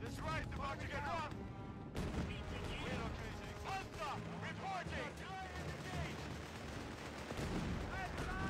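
Dense battle din from Company of Heroes 3 in the North African campaign, with gunfire and artillery hitting a Panzer III tank; constant loud crackle of shots and bursts, with voices and radio chatter running over it throughout.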